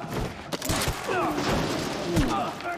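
Gunfire in the Quantum Break video game, several shots and bursts cracking through a busy action scene with speech and game sounds underneath.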